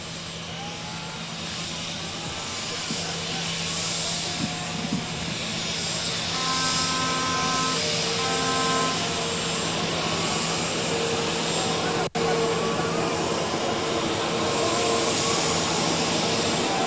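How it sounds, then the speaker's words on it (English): Aircraft engine droning steadily as a plane with call sign RAO001 turns on the ground during an arrival ceremony in Kenya, a loud continuous roar with a whining tone and distant murmur. "We'll have the aircraft turn."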